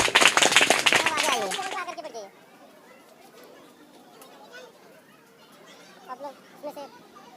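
At a school general-knowledge quiz competition, an audience of students breaks into a loud burst of clapping and chatter for about two seconds, then drops to quiet murmuring and scattered voices.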